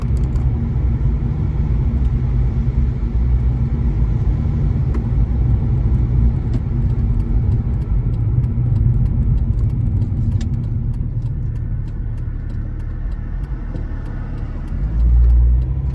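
BMW E46 330D diesel car on the road, heard from inside the cabin: a steady, loud low engine and road rumble that continues unbroken throughout, easing slightly toward the end, with no talking.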